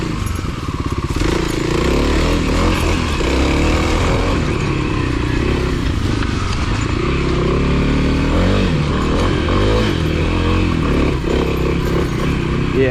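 A Kawasaki KLX300 dirt bike rides along a slick, muddy, leaf-covered trail, its engine droning loudly and steadily up close for the whole stretch with rising and falling throttle and some clatter.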